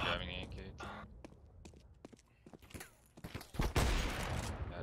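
Gunfire in the video game Counter-Strike 2, rapid bursts of shots and footsteps under players talking over voice chat, loud and busy throughout.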